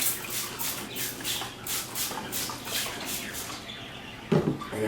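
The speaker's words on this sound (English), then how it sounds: "Then what I do, I spray it with water" A spray bottle misting water onto a hairpiece's hair: a quick series of rhythmic hissing sprays, about a dozen short bursts, close and fairly quiet, followed by a brief handling thump.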